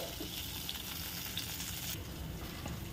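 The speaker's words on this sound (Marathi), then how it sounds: "तुपाची फोडणी छान हलवून घ्यायची आहे" Ghee tempering with cumin and three chopped chillies sizzles steadily while being stirred in a pan for a fasting-style grated sweet potato dish, a close, continuous frying crackle with no talking.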